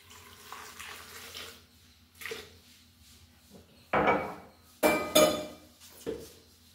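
Hot water splashes into a vessel for curry leaf juice in a kitchen, with a few brief pouring bursts and clinks of utensils against a quiet background.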